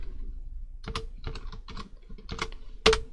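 Keystrokes on a computer keyboard while building an income statement spreadsheet: a handful of separate clicky taps spaced irregularly, with a louder final key press, close and alone without talk.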